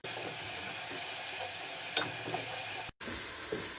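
Garlic ginger paste frying with onions sizzles steadily in a pan, with a few soft stirring clicks and a brief cut near the end before the hissing resumes brighter.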